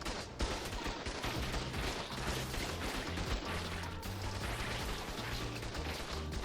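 Turrets, including a Tesla turret, fire nonstop in the ARK video game, a dense, unbroken barrage of crackling shots and impacts that stays loud for the whole stretch.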